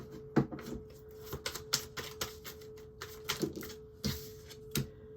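Tarot cards being shuffled make soft, irregular flicks and taps, quiet and close, over a faint steady hum.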